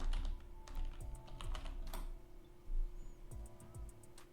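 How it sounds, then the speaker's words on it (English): Fingers type on a computer keyboard into a WordPress plugin search bar, a close, quiet run of irregular key clicks with brief pauses and a few heavier keystrokes. "go to the search bar and type in Elementor"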